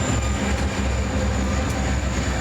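A freight train with pusher locomotives climbs a grade in the Allegheny Mountains, a loud, close, continuous rumble and roar of engines and rolling cars with a faint high squeal above it.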